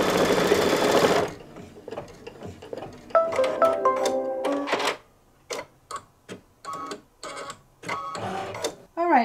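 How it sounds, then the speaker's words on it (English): A home embroidery machine stitches a batting placement line for an in-the-hoop towel topper, giving a steady mechanical whir of rapid needle strokes, then pausing and restarting in short bursts, close and fairly loud. "I'm just going to put it down, making sure all of my stitches are covered, and let it stitch on"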